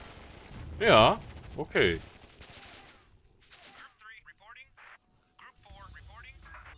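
Tanks firing back in Warzone 2100: a short spoken remark comes first, then faint, scattered bursts of gunfire and cannon shots crackle in the distance.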